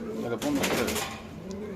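Pigeons coo together in a crowded pen of about forty birds, brief low burbling calls rising over a busy, noisy background.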